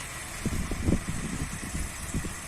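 A tractor engine labors close by, its low rumble throbbing unevenly as it sinks into muddy ground while spreading fertilizer.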